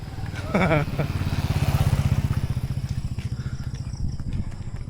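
A motorcycle engine runs steadily nearby with a rapid, throbbing putter, rising briefly at the start, while a person speaks faintly over it.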